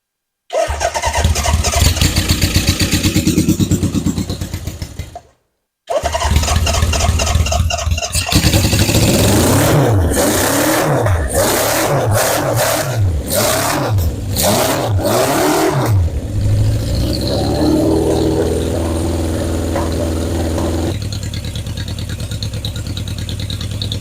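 A 1977 Honda CB750 chopper motorcycle cranks, then fires up into a loud, close idle. It revs in a run of quick throttle blips and settles back to a rough running idle. A brief gap breaks the sound near the start.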